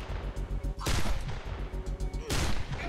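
Gunfire in the video game Wasteland 2: two loud, heavy bursts about a second and a half apart over a dense, rumbling game soundtrack.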